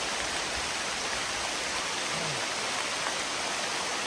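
Rain falls over a village at night in a steady, even wash of hissing noise, fairly loud and continuous, with no voices.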